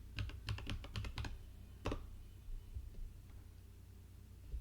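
Fast bursts of keystrokes on a computer keyboard while a Linux system upgrade command is entered, a quick run of clicks followed by one firm tap like the Enter key, then a few faint scattered taps over low room hum.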